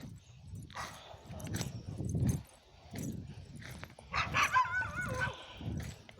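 Several dogs bark and yip in bursts at a moderate distance, some of them whimpering, with a little rustling and movement in between.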